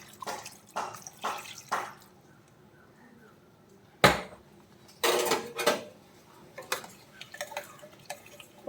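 Squeezed tamarind water goes into a raw Kerala pachcha pulinkari in a metal pot, heard as a scatter of close clinks, taps and splashing drips with short quiet gaps between them.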